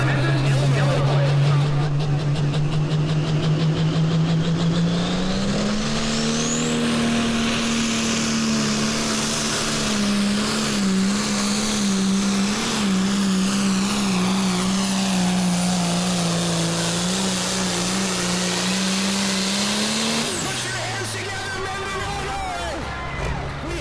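A pulling tractor engine at a county fair tractor pull revs at over 6,000 RPM, a loud sustained roar whose pitch climbs and holds through a long pass before dropping off near the end, with an announcer talking over it.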